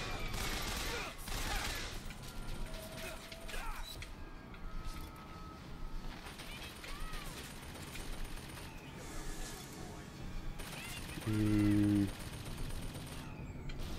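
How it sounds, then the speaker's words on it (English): Machine gun fire in the video game Bioshock Infinite, with rapid bursts of automatic shots, clanking mechanisms and scattered impacts over a busy game soundscape, one loud buzzing burst near the end. "that machine gun dealt with that much more quickly"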